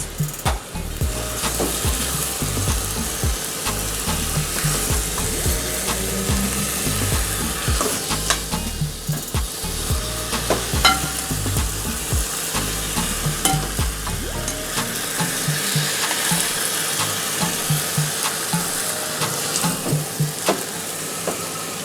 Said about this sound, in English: I'm going to start stirring my pot